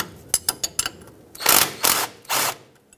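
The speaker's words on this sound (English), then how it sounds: "it's going to be a 13 socket with a 13 wrench" A 13 mm socket ratchet loosens a bolt on the steering knuckle of a 1996-2002 Toyota 4Runner: a few quick close clicks, then three longer grinding pulls of the ratchet with short pauses between.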